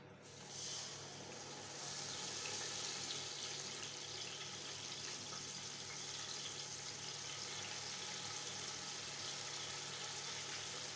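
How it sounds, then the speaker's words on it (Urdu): Water poured into a pot of sugar while making mutanjan, a steady close hiss and splash that starts after a second and runs on without a break, with no talking. "چینی کے ساتھ تھوڑا سا ڈالتے ہیں پانی"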